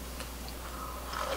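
Close, soft chewing of leftover jujube pulp after making thick jujube tea, quiet moist mastication over a faint background hum.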